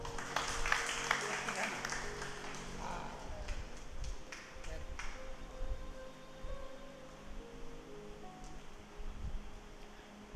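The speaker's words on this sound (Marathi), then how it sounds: "आपण टाळ्या वाजवूया." A church congregation claps together in a soft, distant patter that is densest at first and then thins out into scattered claps under a low room murmur.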